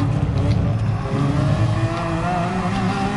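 A Lamborghini Aventador LP-700-4 V12 revs steadily in GT Sport, a loud continuous engine drone with shifting harmonics throughout, no voices over it.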